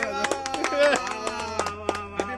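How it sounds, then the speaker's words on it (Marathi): Hands clapping in quick, uneven beats among friends at an outdoor village popati cookout, mixed with loud voices talking. "टाळ्या वाजव, टाळ्या वाजव"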